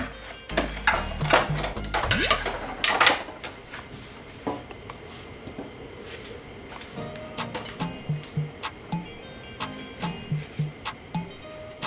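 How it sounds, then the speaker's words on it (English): Black jumbo shrimp being cleaned in a home kitchen, heard as a scattering of small clicks, taps and scrapes, with a louder cluster of handling noise early on and light knocks near the end. "So I'll start cleaning the shrimp."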